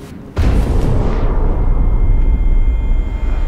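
A loud explosion in the video game Amnesia The Bunker erupts suddenly with a deep boom, then settles into a sustained low roar and rumble that lasts to the end, with no voices.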